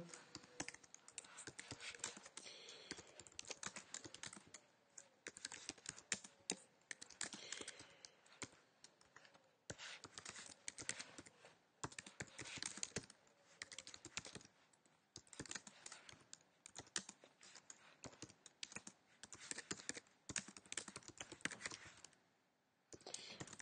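Steady typing on a computer keyboard while entering text into an online document, a continuous stream of close, quiet key clicks in irregular bursts with short pauses, fairly faint overall and without speech.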